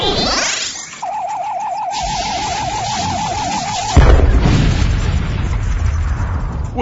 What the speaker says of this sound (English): What was the explosion at the aft of the freighter?